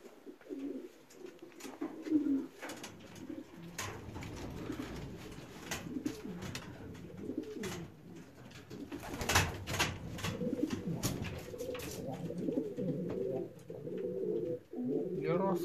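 Pigeons at a racing loft coo softly and repeatedly close by, with a wing flutter as a racing pigeon lands after a 349 km race from Wyszkow; a quiet voice speaks in the background.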